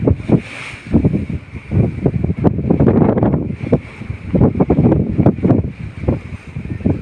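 Storm wind howls at sea around a sand-carrying vessel during a Kalbaishakhi squall, gusting in loud surging bursts with a steady whistling tone over rough water.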